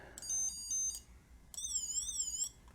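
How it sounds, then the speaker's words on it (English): Electronic beeping from a Lego sound element: short, fairly faint, bright tones, first a few clipped chirps, then a longer warbling beep that rises and falls in pitch, heard alone. "this is just a sound element there"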